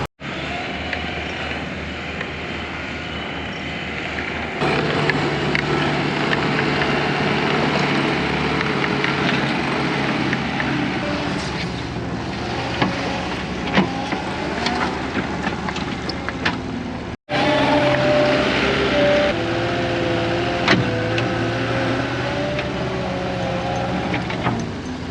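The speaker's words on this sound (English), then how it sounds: "the water truck is running, so we're gonna go ahead and get that taken care of." A water truck's engine runs steadily on a dry, dusty job site for the whole stretch, a continuous low rumble with a brief dropout near the end before it resumes.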